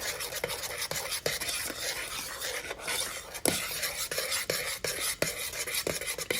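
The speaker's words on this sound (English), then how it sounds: "So as we stir that in, it's going to froth up." A spoon stirs syrup into a frothing caramel popcorn mixture in a pot, giving repeated scraping and clinking strokes over a soft, continuous fizzing froth, close and without speech.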